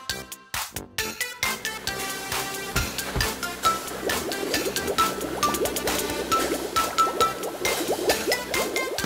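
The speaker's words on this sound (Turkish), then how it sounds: "Sabunu da koyduğumuza göre artık bütün çamurları yıkayabiliriz." Soapy water splashes and sloshes over a small toy truck as its mud is washed away, with dense wet dripping and churning sounds close by and steady throughout.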